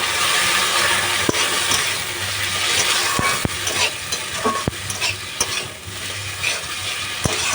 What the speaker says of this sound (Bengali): এরপর ওর মধ্যে সসটা দিয়ে বেশ কিছুক্ষণ নাড়াচাড়া করে নিচ্ছি।